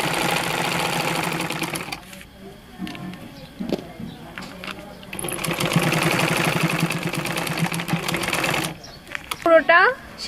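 A sewing machine stitches homemade hand gloves, with two long bursts of fast, steady mechanical clatter close up, a quiet gap of small clicks between them and a brief high chirp near the end.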